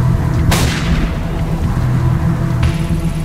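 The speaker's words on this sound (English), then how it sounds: "Guess we're shooting this open then." A single sharp gunshot from the Tokyo Dark video game blasts a lock open. It rings out loud and close, then fades into a low ambient background.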